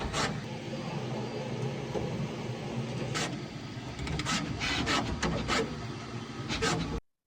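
A Bambu Lab H2C 3D printer runs calibration, whirring and grinding steadily at close range, with sharp clicks and short motor bursts recurring through the steady mechanical noise.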